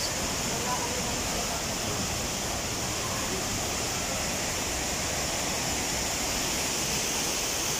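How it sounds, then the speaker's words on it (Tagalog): Ditumabo Mother Falls in Aurora Province, a waterfall heard as a loud, dense, unbroken roar of falling water that fills the whole scene steadily from start to end. "eto na ngayon yung Mother Falls"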